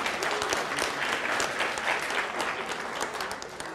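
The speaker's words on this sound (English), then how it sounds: "Give him a round of applause." Audience applause in a room after a question-and-answer exchange, sustained dense clapping from many people at steady loudness, without speech.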